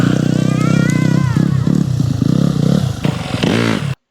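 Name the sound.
child imitating motorcycle sounds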